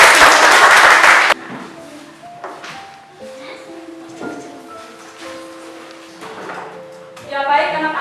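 Children in a classroom clap together in a loud, dense burst lasting just over a second, then it stops abruptly, leaving quiet room sounds and a teacher speaking.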